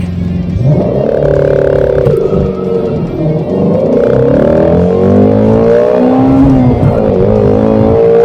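A Ford Mustang engine revs loud and close, its deep roar rising and falling through several throttle blips with no talk over it.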